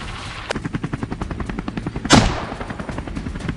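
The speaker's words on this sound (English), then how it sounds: "the helicopter roars to life, slicing through the air, sweeping low over the terrain" A helicopter sweeps low over farm terrain in a wild boar hunt, its rotor beating in a fast steady pulse while a loud burst of gunfire cracks out midway, rotor chop continuing after.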